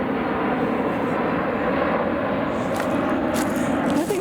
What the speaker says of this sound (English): with airplanes flying above you